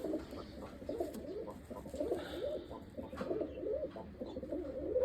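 Several pigeons coo steadily and repeatedly near a coop of white-eyed birds, the soft throaty rolls overlapping in a continuous murmur with no talking.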